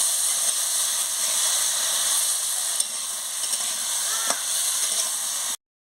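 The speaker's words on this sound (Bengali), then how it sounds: "সর্ষে বাটা দিয়ে একটু নড়িয়ে নেব" Mustard paste stirred in a hot cooking pan, a steady bright frying sizzle and hiss with a few faint scrape clicks, continuous and close before cutting off abruptly.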